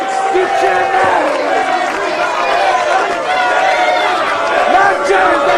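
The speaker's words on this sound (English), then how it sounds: "They're chanting for the announcer." A wrestling crowd at an independent show chants rhythmically for the ring announcer, a loud, sustained mass of voices with shouts and cheers throughout.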